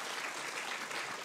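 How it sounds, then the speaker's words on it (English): Audience applause at a talk by a naturalist, a dense burst of many hands clapping at once, brief, even and moderately loud with no voices over it. "Give her a round of applause."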